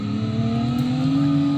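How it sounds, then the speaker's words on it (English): A Lada Priora's engine in the game BeamNG.drive drones loudly at a steady high rev during a crash test, a continuous mechanical whine with no talk over it. "The engine is so loud."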